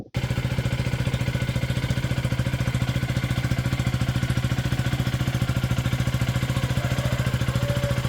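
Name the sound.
motorcycle engine idling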